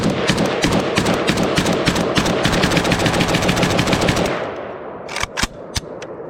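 An AK rifle chambered in 7.62 fires a long rapid burst of full-auto rounds at an outdoor range, loud and close, the stream stopping abruptly before a few scattered trailing cracks.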